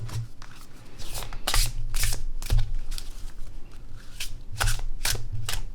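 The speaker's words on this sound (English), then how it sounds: "let's shuffle the deck and pull a card" A deck of cards is shuffled up close, with repeated crisp riffling bursts and sharp flutters in a steady rhythm, no talking.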